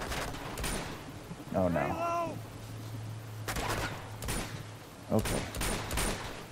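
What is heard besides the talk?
gunfire in the video game Uncharted 2: Among Thieves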